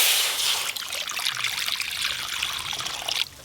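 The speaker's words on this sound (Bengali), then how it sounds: "তার জন্য কড়াই জল দিয়ে দেব।" Water pours steadily into a wok to start a sugar syrup for palm malpua. The stream is close and trickling, thins slightly, then cuts off near the end.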